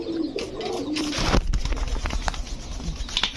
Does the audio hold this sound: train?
no